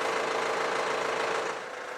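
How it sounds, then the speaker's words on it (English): A Vermeer brush chipper's engine idling while warming up, a steady mid-pitched rumble with a slight dip in level near the end, no voices. "Allow the engine to idle for a minute or two to warm up."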